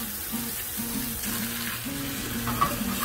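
A 3-ounce beef burger patty sizzles on a hot Blackstone griddle, a steady close crackling fry with faint scraping and a low hum underneath, no voices.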